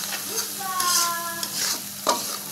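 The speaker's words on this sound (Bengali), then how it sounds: "মশলাটা তেলেই কষিয়ে নিচ্ছি।" Spice paste with turmeric frying in oil in a pan for hilsa fish curry, sizzling steadily up close while being stirred, with scraping strokes and a brief clink near the end.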